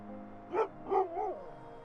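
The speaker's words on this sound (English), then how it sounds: "vaguely through the cold, she hears the bark of a dog" A dog gives three short barks with a whimpering edge in cold, quiet surroundings, moderately close and fairly soft.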